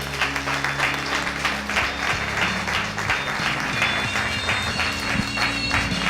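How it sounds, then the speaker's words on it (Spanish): A church congregation applauds, a dense, loud, steady wash of many hands clapping together, sustained throughout with some voices mixed in. "Den un aplauso al Señor"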